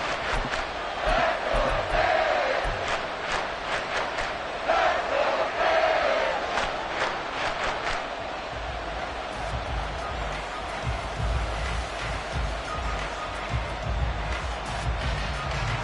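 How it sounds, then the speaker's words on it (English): A home football stadium crowd in Seattle roars and chants as the Seahawks drive toward the goal line late in the game, with loud, sustained, surging cheering and rhythmic shouts that fill the whole stretch. "This crowd doing all they can."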